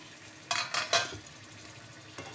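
A capsicum and potato fry being stirred in a pan, with a few quick scraping strokes and a soft sizzle underneath, close and fairly quiet, no speech.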